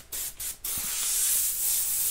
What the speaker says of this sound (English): It's a siphon feed airbrush.